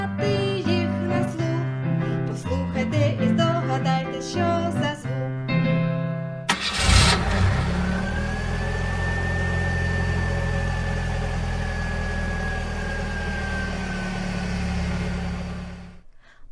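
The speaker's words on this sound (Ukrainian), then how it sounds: "автомобіль" A car engine cranks and fires after a stretch of children's music, then settles into a steady, loud idle that runs on for several seconds.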